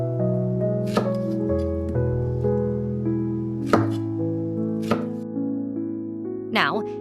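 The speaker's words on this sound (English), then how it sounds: "Cut the pineapple into juicy bite-sized chunks" A knife cuts fresh pineapple into bite-sized chunks on a board, a few sharp, separate chops spaced several seconds apart over sustained background music.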